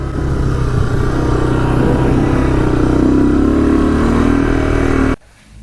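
A Honda three-wheeler pulled from an abandoned barn runs on its first ride, its engine humming loud and steady up close with a gradual rise in pitch before cutting off abruptly near the end.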